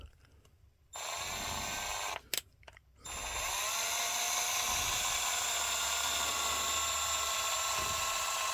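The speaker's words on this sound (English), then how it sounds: "We got 2 more holes drilled here in the bottom." A drill bores holes into the plastic of a Canon 240/241 ink cartridge, with a high steady whine that cuts in and out briefly before running continuously and loud.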